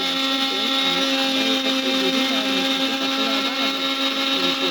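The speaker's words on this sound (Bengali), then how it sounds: "তাই আমি গ্রাইন্ডারে দিয়ে দিচ্ছি এটাকে আমি ভালো করে বেটে নেব" An electric kitchen grinder churns soaked ingredients into a paste for potol korma, giving a steady, loud, continuous whir that holds evenly from start to finish with no talking.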